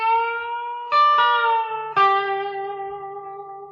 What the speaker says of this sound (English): this steel guitar phrase that a lot of country guys use and play